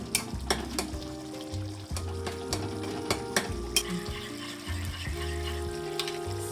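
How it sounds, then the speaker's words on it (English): Chicken karahi frying in a kadai as beaten yogurt is stirred in, a steady sizzle under repeated scraping and clinking of a spoon against the pan, close and moderately loud with no talk. "now we need to add our yogurt step by step and fry it nicely"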